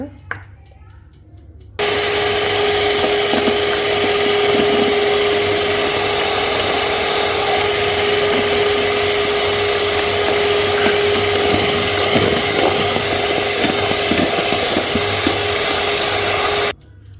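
An electric mixer whips egg whites with sugar for a cloud cake, a loud, steady motor whine that starts abruptly, runs unbroken for about fifteen seconds, then cuts off.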